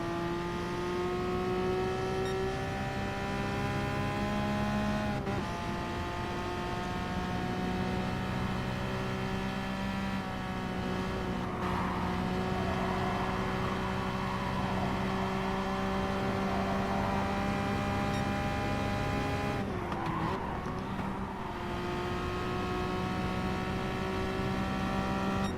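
A race car engine in the Gran Turismo Sport video game drones steadily at high revs for the whole stretch, with a few brief dips and shifts in pitch as the car laps the track, with no voices.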